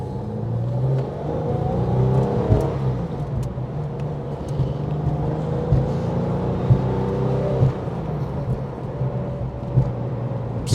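Air-cooled flat-six of a 1995 Porsche 993 RS idling and warming up, a steady close rumble with a few sharp blips of revs rising above it, heard from inside the car with no talking.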